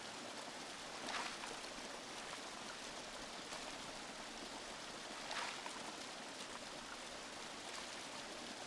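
A stream flows in the Green Hell jungle game, a faint, steady trickling wash with a couple of slightly brighter splashy swells, continuous and quiet with no talk over it.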